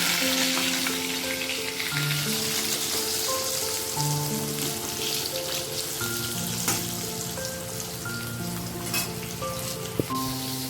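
Mixed vegetables frying together in one pan for a festival offering, a continuous dense sizzle heard up close, with soft stirring and an occasional sharp clink of a utensil, alone with no voices.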